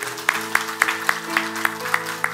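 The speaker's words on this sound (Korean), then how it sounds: "하나님께 한번 우리 감사의 박수 한번 할까요?" A church congregation claps in thanks during a worship service, giving sharp, evenly spaced claps in a steady rhythm over sustained held musical tones.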